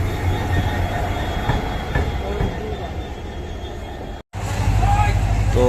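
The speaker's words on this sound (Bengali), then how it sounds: "আমাদের ট্রেন গুয়াহাটি অভিমুখে যাচ্ছে" An Indian Railways train runs toward Guwahati, its steady loud rumble and rhythmic wheel clatter heard from on board, close and continuous, with a brief dropout near the end before the rumble resumes.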